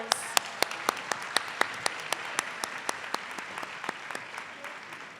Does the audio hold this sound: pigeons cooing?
no